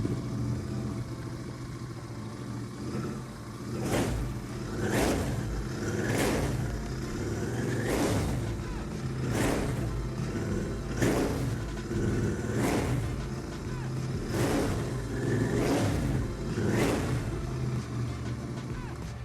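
A Royal Enfield Continental GT 650 two-cylinder 650 cc motorcycle, a former display bike, is revved repeatedly with about nine evenly spaced throttle blips rising over a steady idle, close by and loud.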